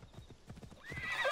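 A horse in Assassin's Creed Odyssey trots up with quick close clip-clop hoofbeats, then lets out a loud whinny at the end.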